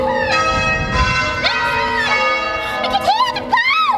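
Church bells ring out on Remembrance Day in a sustained, overlapping peal, heard at a moderate distance while people talk excitedly nearby.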